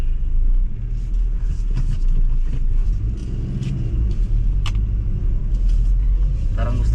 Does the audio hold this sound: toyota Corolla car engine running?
yes